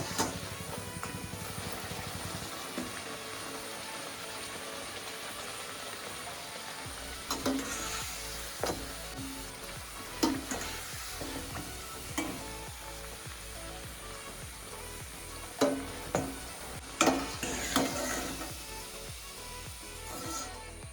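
Enne rotti, a Kannada flatbread, frying in hot oil with a steady close sizzle throughout, punctuated by several louder crackling bursts and clinks as the bread is turned.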